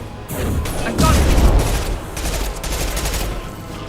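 Gunfire in Mass Effect Legendary Edition on PS5: loud, rapid overlapping bursts of shots in a chaotic firefight, with a heavier blast near the middle of the burst sequence.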